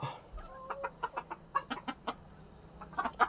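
Hens cluck in a home-built coop, giving a steady series of short, close, rhythmic clucks with a brief lull and a busier cluster near the end.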